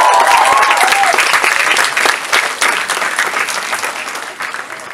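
A comedy show audience bursts into loud, dense applause that fades slightly toward the end, with a few cheers at the start.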